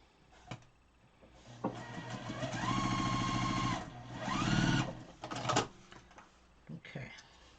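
Quilt pieces chain-pieced on a sewing machine, the motor whirring and needle chattering in two runs of a couple of seconds each, framed by handling clicks and soft talk.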